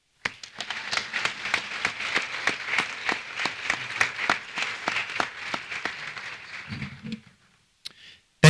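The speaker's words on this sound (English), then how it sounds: "Please join me in a round of applause to show our appreciation." An audience at a high school honors convocation applauds with dense, steady clapping that fades out toward the end, followed by a brief pause and a short burst of sound.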